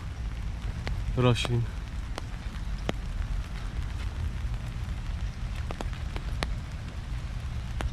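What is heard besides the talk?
rain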